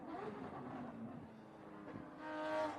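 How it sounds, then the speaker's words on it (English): A Porsche race car engine roars past at a distance at Sonoma Raceway, its pitch shifting and the whine swelling toward the end as it draws nearer. "Here comes the Porsche again."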